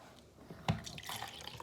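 Apple juice being poured, a sudden splash followed by a soft continuous trickle of liquid, close and fairly quiet against faint room noise.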